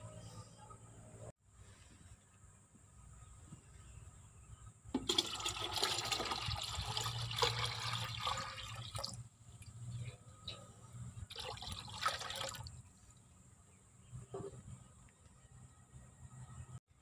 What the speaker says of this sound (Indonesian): Jadi ini mau aku tuang dulu ya di air bersih atau air biasa yang kita gunakan untuk menyiram.